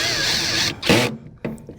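A power tool drives and tightens bolts on the fuel pump of a Mazda CX-5 during recall work, sounding as two short whirring bursts that are loud and close, separated by a brief pause.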